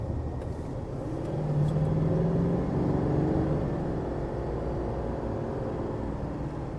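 A 2024 Chevrolet Silverado with a 6.6 litre Duramax V8 diesel gives a deep, steady rumble from inside the cab, swelling slightly as it pulls, with no talking.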